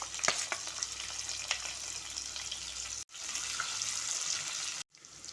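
Sliced onion fries in hot oil with mustard seeds and cumin for pulao, making a steady, close sizzle with a few faint crackles and two brief silent cuts.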